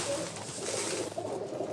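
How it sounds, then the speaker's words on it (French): Pigeons in a rooftop loft in New York, a flock of about fifty birds, cooing softly and continuously close by with muffled fluttering and a low room murmur, no clear talk. "Combien de pigeons vous avez?"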